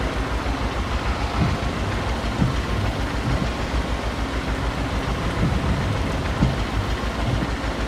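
Steady rain in the farming video game Farming Simulator 22, a constant broadband hiss with faint low rumbles of machinery underneath and no talk.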